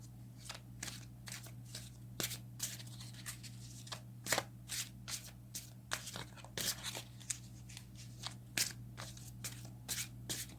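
Tarot cards are shuffled by hand in short, crisp riffles and taps that repeat irregularly, quiet and close over a low steady hum.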